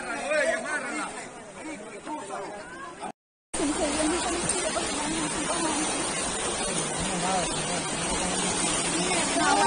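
Floodwater in the swollen Limón river rushes in a steady, loud roar that fills the scene, with several people talking and shouting excitedly over it and a brief gap near three seconds.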